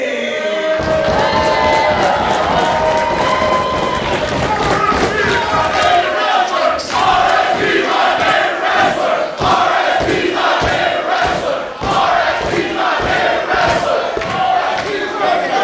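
A capacity crowd at a Beyond Wrestling show at the White Eagle in Worcester, Massachusetts cheers and chants loudly and continuously, with rhythmic stomping or clapping thuds, while a commentator talks over it.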